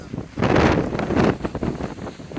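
Wind gusting outdoors during a kitesurfing lesson, loud rushing buffets against the microphone rising and easing in surges.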